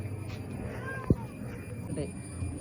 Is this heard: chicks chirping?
no